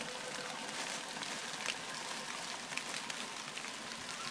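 Steady rain patters on a surface, a dense continuous hiss of drops with a few brighter taps, heard alone.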